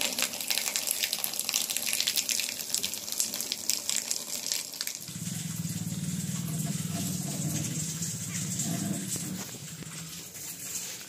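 Water runs steadily through a pipe while a household water tank is cleaned without draining it, a continuous broadband rush that grows fuller and lower partway through, with no talk over it.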